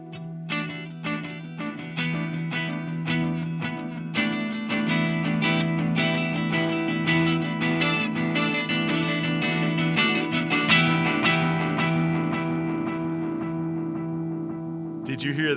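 Electric guitar played through an EarthQuaker Devices Silos delay pedal in tape mode, chords and single notes ringing with wobbly, slightly modulated repeats that trail and smear together, steady and fairly loud with no talking.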